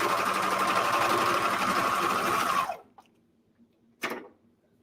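A sewing machine runs steadily down a sweatshirt seam, a loud rapid whirring that stops abruptly, followed by a couple of faint clicks and a short burst of handling noise.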